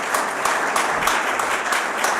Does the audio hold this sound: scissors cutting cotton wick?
no